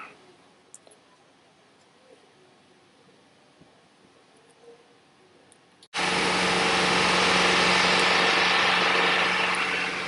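2003 GMC Sierra 5.3L V8 idling with a lean-condition misfire, a steady close rumble that starts abruptly partway through after a quiet stretch.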